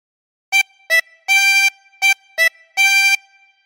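A 24-hole tremolo harmonica plays the opening phrase of This Old Man, six separate blown and drawn notes in a short-long rhythm, close, clear and alone.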